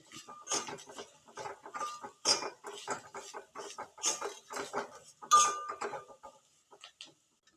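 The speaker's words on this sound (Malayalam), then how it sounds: "സോയ ചേർത്ത് എല്ലാം കൂടി ഒന്ന് മിക്സ് ചെയ്യാം" Spoon scrapes and clatters in a pan as soya chunks are mixed with onion, ginger and chilli, a close run of quick metallic clinks and scrapes with brief pauses and no talk.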